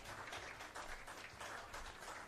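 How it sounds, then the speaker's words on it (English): Steady, faint applause from the coaching staff and substitutes' bench at an Australian men's soccer match, clapping in continuous waves from a distance. "gets a big applause from his coach and the APIA bench"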